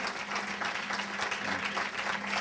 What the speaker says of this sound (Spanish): pido un fuerte aplauso porque realmente lo merecen